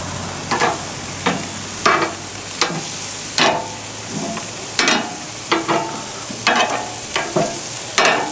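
Zucchini and lamb sizzle steadily on a grill, with a series of sharp bursts of crackling and scraping as pieces are turned, close and fairly loud with no talking.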